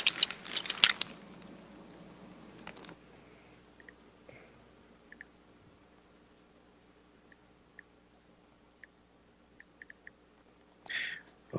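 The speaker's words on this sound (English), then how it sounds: "Can you hear me chewing?" Loud crunchy chewing of food close to the microphone in the opening seconds, then quiet with a few faint clicks and a short rustle near the end, no talk.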